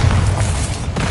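A Bombarda blasting spell goes off in Hogwarts Legacy as a single loud, deep boom that fills the whole moment with a rumbling burst.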